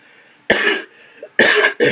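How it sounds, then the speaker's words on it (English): Three harsh coughs close to the mic, two in quick succession after the first, with short quiet gaps and no talking. "I am coughing"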